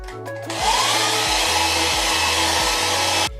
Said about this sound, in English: So I'm going to give it a quick dry with the hair dryer.